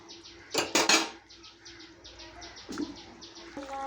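Fried morola fish stirred in a cooking pot of curry with bitter gourd, a few clattering metal scrapes and knocks of a spoon against the pot, close by, with quieter clinks afterward.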